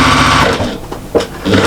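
A sewing machine stitching a quilt border, a loud, close, continuous mechanical whirr of the needle running, briefly slowing near the middle and then picking up again.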